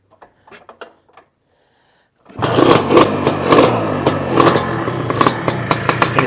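A motorcycle with a blown oil seal fires up after a few quiet clicks and rattles, then runs loud and close with repeated throttle blips and a clattering idle.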